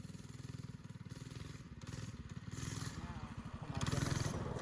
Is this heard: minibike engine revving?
yes